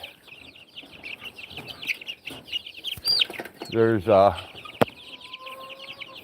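Young straight-run chicks kept apart from the grown chickens cluck and chirp in quick, uneven bursts, with a louder squawking flurry near the middle, close by, and a few words of speech at the start.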